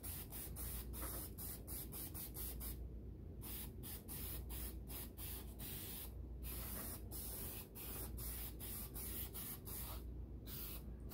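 Aerosol spray paint hisses onto a car tail light in a series of short bursts with brief pauses and a few longer passes, applying a light first coat up close with no talking.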